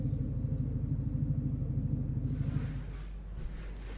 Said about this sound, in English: wait, there is a motorcycle,